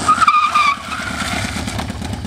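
A bike braking hard on a road surface treated with a grip-enhancing black traction product, its tires giving a loud, short skid squeal that fades into steady road noise.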